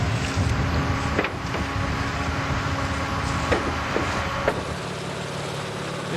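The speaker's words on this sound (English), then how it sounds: "This is a massively constructed pump." A massive TOYO slurry pump with a high-chrome-wear-parts, 1.35 service factor motor runs in a pond, a steady, loud low rumbling drone mixed with wind noise and a few faint knocks, with no talking.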